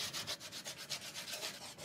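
Antique oak card table from the 1870s being sanded by hand, a quick run of rhythmic rubbing strokes, soft and close, with no voices.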